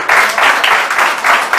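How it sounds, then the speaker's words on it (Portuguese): Church congregation clapping in a loud, rhythmic unison beat, hands striking together in regular pulses a few times per second, close and clear with no voices over it. "Aplauda o Senhor."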